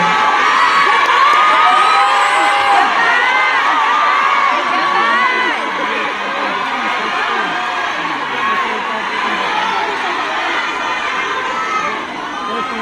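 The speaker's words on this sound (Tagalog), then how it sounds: "Natagal tayo sa sigawan ninyo" A dense rally crowd at a Duterte unity gathering of Filipino workers in Japan shouts, whoops and cheers continuously, loud and close, with many overlapping voices that ease slightly toward the end.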